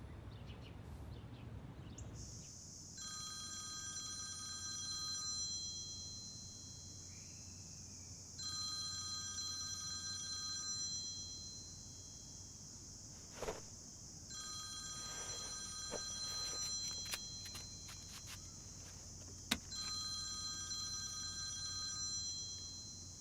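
A telephone rings in a police interrogation room as a suspect's contact is called, giving repeated bursts of electronic trilling tones separated by short pauses. It sounds moderately quiet and steady, and no one speaks over it.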